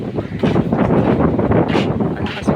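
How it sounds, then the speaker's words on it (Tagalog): Strong wind gusting across a rice field heavy with grain, roaring steadily and loudly into the microphone for the whole stretch with buffeting bursts. "sobrang lakas ng hangin, oh"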